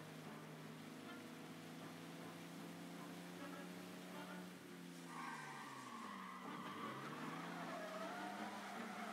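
A car in the video game Mafia Definitive Edition drives with a steady engine drone, then revs and drops in pitch with a skidding, rushing swell in the second half, moderately loud with no talk.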